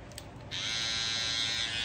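A Babyliss LoPro FX One All Red hair trimmer with a new MIM blade switches on after a brief moment of quiet, then runs as a steady, fairly loud, high electric buzz close by with no talk over it.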